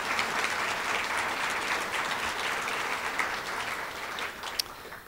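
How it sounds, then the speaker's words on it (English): An audience applauds performer Mimi at an academic pride awards program, a dense, steady wash of clapping that holds for several seconds and fades slightly toward the end. "Let's give her another round of applause."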